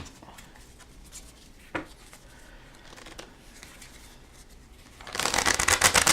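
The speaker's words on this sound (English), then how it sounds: "And those both get shuffled into the trade deck." Playing cards from a Star Realms deck are shuffled in a short, crisp riffling burst near the end, following quiet table handling sounds.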